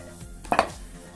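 A container is set down with one short close knock, a light clack after it, in a kitchen while a milk and banana cocktail is prepared; no talk.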